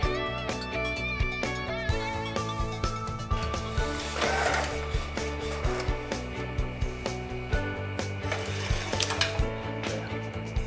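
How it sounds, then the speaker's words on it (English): A Procolored F8 DTF printer prints a nozzle test page, its print head carriage shuttling back and forth with a steady mechanical whir, clicks and short motor pulses in a repeating rhythm, close and clear, with no talk. "print a nozzle test page to check the status of the print head"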